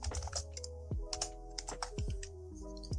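Typing on a computer keyboard: quiet, irregular bursts of key clicks and taps in quick succession, close and alone with no voices.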